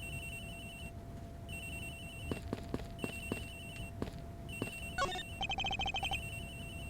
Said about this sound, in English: Sounds like the phone is up in the flight attendant's room.